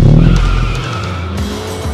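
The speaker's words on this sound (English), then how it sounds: "Let's see what it can do when its tires hit the tarmac." MINI John Cooper Works convertible with a 2-litre engine, 231 horsepower and sport chassis driven hard on tarmac, a loud close burst of engine roar and tire skid fading into a short squeal.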